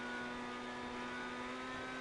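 A modified car in GTA Online revs hard, its engine tone held in a steady, continuous drone as it accelerates through a higher gear.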